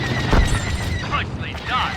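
Bombers on an attack run in Star Wars Battlefront II starfighter combat fill the scene with booming explosions and whooshing craft, loud and dense, under game dialogue.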